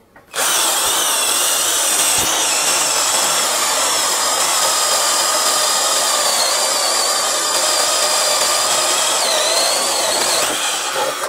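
A 12-volt cordless drill running at its highest variable speed bores into a 7.5 cm thick meranti wood beam, a loud, continuous high whine and grinding that holds steady for about eleven seconds.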